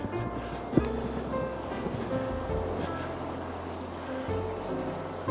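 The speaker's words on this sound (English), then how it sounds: "Creek is still flowing here," Steady low rushing of creek water flowing near a culvert, a continuous wash with a soft wind-like hiss, fairly close and unbroken for the whole stretch.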